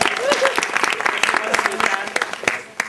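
Applause from a Purim party audience, a steady burst of clapping with dense hand claps throughout, close and fairly loud, with a voice speaking over it.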